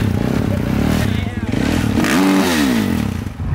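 Dirt bike engine revving loudly and continuously on the Glamis sand dunes, pitch climbing and falling near the end, with people talking over it.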